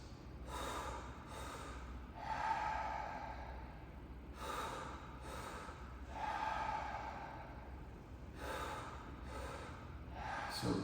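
Breathwork mouth breathing in a repeating pattern of two quick inhales into belly then chest followed by one relaxed, unforced exhale, close and fairly quiet, cycling about three times with no talking.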